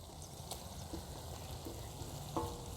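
Tomatoes hit a hot pan while puri bhaji is cooked, giving a steady, close frying sizzle throughout with a few soft clinks and stirring scrapes, no talking.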